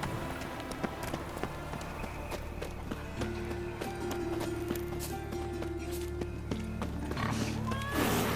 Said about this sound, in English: Run, Roach. No loitering round here.